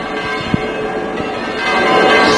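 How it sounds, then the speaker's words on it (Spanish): Church bells ring steadily in Motril, Spain, their overlapping tones hanging in a wash of outdoor background noise, with no one talking. "Siguen sonando las campanas."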